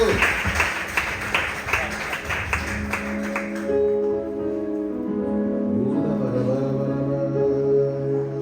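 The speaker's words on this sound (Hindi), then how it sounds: "जिन्होंने लिख के रखा ताली बजाओ उनके लिए" A congregation at a Hindi-language church service claps in a dense burst for a few seconds, then the applause stops and sustained keyboard or organ tones carry on.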